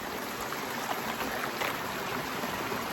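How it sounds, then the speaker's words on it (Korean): A steady, even rush of a mountain valley stream running over rocks, continuous and moderately loud with no voices. "계곡 물소리 들리시죠?"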